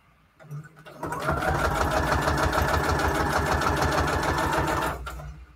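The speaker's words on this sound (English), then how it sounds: "Let's sew them on." An electric sewing machine stitching book page pockets into place runs steadily at a fast, even clatter for about four seconds, loud and close. A brief thump comes before it starts, and there is no talk.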